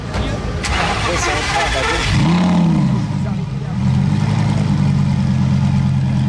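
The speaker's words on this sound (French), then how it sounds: "Et ça rugit ce V10" Lamborghini Gallardo V10 engine roaring and revving nearby, a loud sustained growl that rises and then holds steady at a high idle, with people talking over it.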